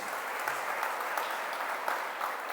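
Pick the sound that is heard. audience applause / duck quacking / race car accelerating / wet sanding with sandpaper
audience applause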